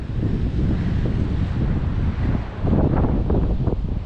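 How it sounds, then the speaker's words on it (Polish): Powerful ocean waves crash and roar against the rocky Reykjanes coast of Iceland, a loud continuous rumbling surge swelling in repeated pushes, with heavy wind buffeting the microphone and no voices. "Niesamowite są te fale. Przepiękne, jaka siła, jaka potęga jest w oceanie"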